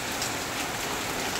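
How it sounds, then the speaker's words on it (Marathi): Heavy afternoon rain pours down in a village, a dense, steady hiss of drops hitting surfaces, close and loud with no voices over it. "नंतर असा हा जोराचा पाऊस"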